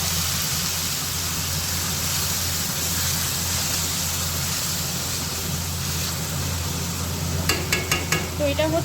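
Marinated kechki fish fry in hot oil in a wok, giving a loud, steady sizzling hiss up close, joined near the end by a few sharp metallic clinks of utensils against the pan.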